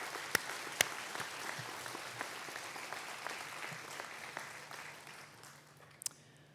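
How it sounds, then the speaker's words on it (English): A graduation ceremony crowd gives a long round of applause for supporters and staff, with a thick patter of many hands, a few sharper nearby claps standing out, and the clapping gradually thinning toward the end. "let's give your supporters, your family, friends, and the academic staff a huge round of applause"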